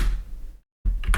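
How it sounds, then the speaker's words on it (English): A keyboard is banged right next to a microphone: after a brief silence come a loud, close thump and a second sharp knock. "I just banged the keyboard and forgot it was right next to the mic"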